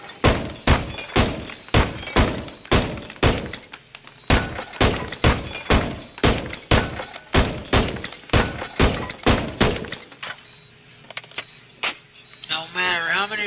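Rapid gunfire striking bulletproof glass in the America's Army video game, a long series of loud, sharp, evenly spaced shots with glassy impact cracks, pausing briefly, then resuming before a short voice near the end.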